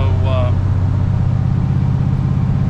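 A carbureted car engine with freshly adjusted timing and carb runs loud and steady, a low rumbling drone that holds level throughout with no clear surge, as it bogs under a full-throttle stab.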